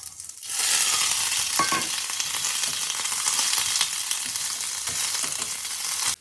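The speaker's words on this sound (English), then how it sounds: "My green beans and shrimp are cooking through." Shrimp and green beans stir-fry in a hot pan, giving a steady, close, bright sizzle with scattered crackles and pops throughout, with no talking.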